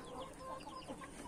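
A rooster, borrowed from a friend in the area, clucks softly at close range in a yard where a cage is being built. Its low calls run steadily over faint background noise, and no one speaks.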